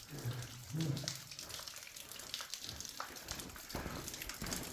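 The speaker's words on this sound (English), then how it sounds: "And all that water's going down somewhere." Water trickling and flowing down inside an abandoned mine drift, a faint continuous splashing rush with low thuds and a brief voice-like murmur early on, distant and quiet.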